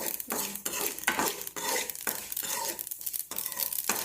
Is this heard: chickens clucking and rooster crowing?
no